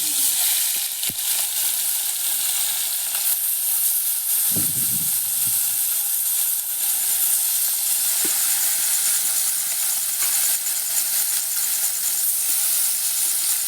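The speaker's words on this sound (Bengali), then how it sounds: "কড়াই গরম হয়ে গেছে এখন দিয়ে দিব সরষার তেল দিয়ে মাছ দিয়ে দিব তেল গরম হয়ে গেছে মাছ" Puti fish fry in hot mustard oil in a wok with a steady, close hiss and sizzle throughout, broken by a few brief knocks and clatters.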